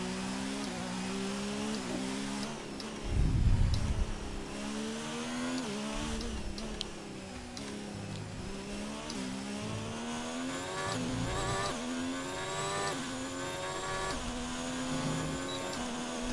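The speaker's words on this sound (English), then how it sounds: "Just revving it." A Formula 1 car engine in the F1 2019 racing game, revving hard in repeated rising and falling high-pitched sweeps through gear changes, loud and continuous with a brief rumble early on.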